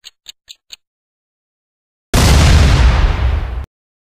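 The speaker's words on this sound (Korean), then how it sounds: "폭발음이 울렸다." A few sharp ticking clicks, then a sudden loud explosion with a dense roaring burst lasting about a second and a half before cutting off abruptly into silence.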